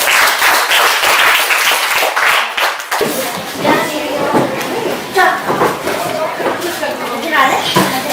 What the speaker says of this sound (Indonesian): kelompok 3 beri tepuk tangan